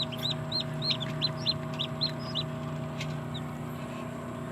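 Darag native chickens on a Philippine farm giving a series of short, close clucks and chirps in a quick, uneven string over a steady background hum, with no talking.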